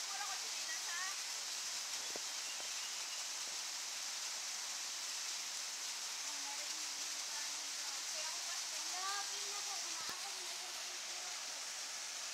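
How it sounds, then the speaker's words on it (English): Steady rushing roar of a falling waterfall in Bayawan, Negros Oriental, Philippines, constant and broad, with faint birdsong and distant voices above it. "We're here at the waterfall."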